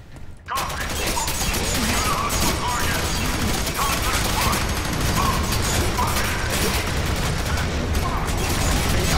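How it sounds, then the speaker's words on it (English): Continuous explosions and gunfire in the video game F.E.A.R. 3, a loud, dense barrage of blasts and shots with mechanical clatter filling the whole stretch after a brief quiet start. "Ah, explosions."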